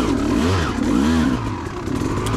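A 2004 Kawasaki KX250 two-stroke motocross bike rides a tight mountain trail, its engine revving up and down in rising and falling surges, loud and close, with clattering and scraping under the throttle.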